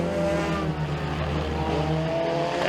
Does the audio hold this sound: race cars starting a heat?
yes